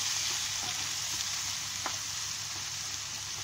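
An onion, tomato, ginger and garlic mixture sautés in a pan, giving a steady close sizzle with faint scraping stirs throughout, and nobody speaks.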